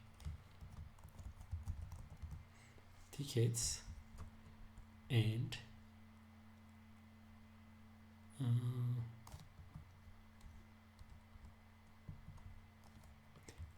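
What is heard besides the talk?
typing on a computer keyboard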